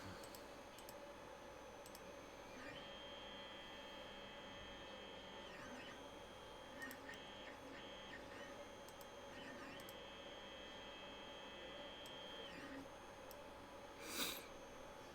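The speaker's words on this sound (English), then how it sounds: "That is what's going on the printer as we speak." An office printer prints, its high whirring passes starting and stopping in several sustained runs over a low room hum, with small clicks between runs and a brief louder clack near the end.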